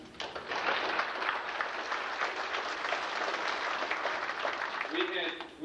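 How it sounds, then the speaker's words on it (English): Sustained applause from a banquet audience at a school FFA chapter event, steady broadband clapping filling the room for several seconds before easing near the end. "So I'd like you to join me in giving them a round of applause."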